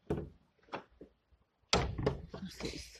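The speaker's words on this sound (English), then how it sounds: "I'll just close the door." A heavy church door being closed, with scrapes and thuds of wood followed by a loud resonant slam and a lingering knock of the latch nearby.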